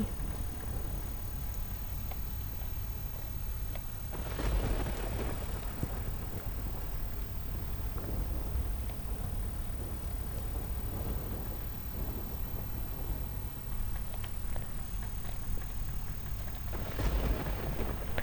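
Heavy rain pours steadily in Rajula, Amreli, with deep rumbles of thunder rolling in twice, broad and continuous, and no voices.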